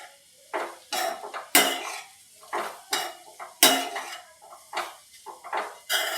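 Beetroot halwa roasting in a pan on a low flame, with repeated spoon scrapes and clinks against the pan in an uneven rhythm over a faint background sizzle.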